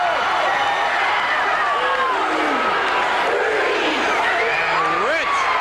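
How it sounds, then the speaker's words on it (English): A roaring arena crowd at a 1987 Memphis hair cage wrestling match shouts and yells continuously, with rising calls and chant-like bursts filling the hall. "The crowd says, do it."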